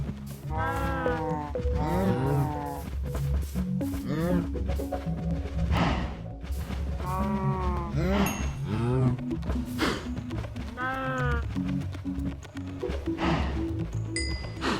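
Minecraft cows moo repeatedly in loud, drawn-out lowing calls that overlap and follow one another closely, with the odd small clink underneath.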